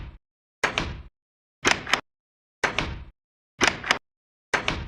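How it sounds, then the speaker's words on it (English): The old Minecraft wooden door sound repeats five times in a steady rhythm, each a loud, close creaky thunk about a second long with silence between. "If you remember this door sound, you are a veteran Minecraft player"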